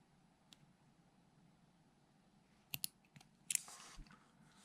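Fishing line's tag end snipped after tying a half-blood knot variation, heard as a few sharp, quiet clicks of a cutting tool at close range in an otherwise hushed setting, with no voices.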